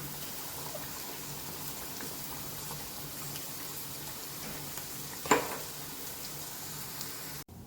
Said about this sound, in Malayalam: ഇനി നമുക്ക് ഒന്നാം പാല് ഇതിലേക്ക് ആഡ് ചെയ്ത് കൊടുക്കാം.